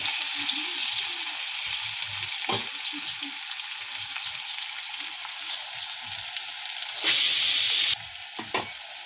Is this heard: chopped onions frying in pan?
yes